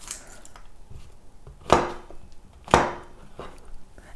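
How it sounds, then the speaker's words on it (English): Knife roughly chopping raw mushrooms on a cutting board for mushroom walnut burgers: two loud, sharp chops about a second apart, with fainter knocks and kitchen clatter around them and no talking. "And mushrooms, just a rough chop."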